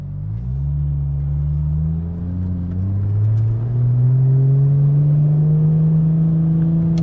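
A 2JZ-swapped Nissan S15 Silvia with an 8HP70 automatic gearbox accelerates steadily, its engine note rising smoothly through a long pull, loud and close, with no speech.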